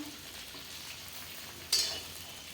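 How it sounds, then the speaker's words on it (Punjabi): Green chillies stirred in a pan over a low flame for pickle, giving a soft, steady sizzle with a brief scrape of stirring near the end, quiet and without speech. "ਨੂੰ ਲੋ ਫਲੇਮ ਤੇ ਰੱਖ ਕੇ ਮਿਰਚਾਂ ਨੂੰ ਹਲਕਾ ਹਲਕਾ ਹਿਲਾਉਣਾ"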